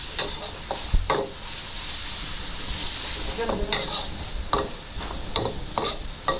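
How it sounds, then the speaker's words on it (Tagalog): Beef tongue sautéing with garlic and onion in a pan in Angeles, Pampanga: a loud, close sizzle broken by frequent scraping, clattering stirring strokes at an uneven rhythm. "So, igigisa na natin yung lengua."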